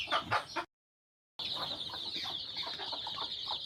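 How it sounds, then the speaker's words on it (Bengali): Hens cluck softly while chicks cheep in a continuous high-pitched chorus, close by, after a short silent gap near the start. "এই যে এইখানে দুইটা মুরগি"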